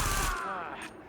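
Game gunfire in a shooting video game: a loud, dense burst of shots at the start that quickly fades into echoing tails, with mechanical rattle, under other game sounds.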